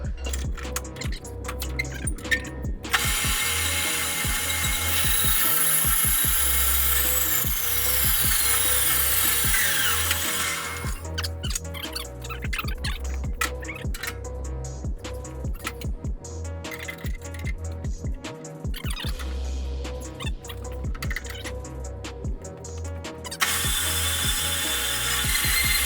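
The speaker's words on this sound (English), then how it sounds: "So let me cut this piece of pipe down a little bit" A bandsaw cuts a piece of metal pipe in a fabrication shop, giving a continuous grinding, rattling whine with bursts of harsher, brighter cutting noise and brief clicks, loud and close with no talking.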